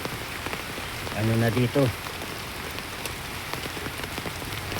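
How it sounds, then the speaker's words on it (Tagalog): Heavy typhoon rain pours steadily onto surfaces, a dense close wash of noise with wind mixed in, while a voice speaks briefly over it. "Bumabakbak na yung mga ulan at saka hangin."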